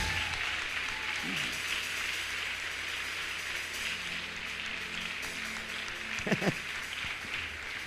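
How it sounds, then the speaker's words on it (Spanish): A church congregation applauds, a continuous even patter of many hands clapping heard from a distance and fairly faint, with a brief voice rising through it near the end. "Alguien que le dé un aplauso bien fuerte."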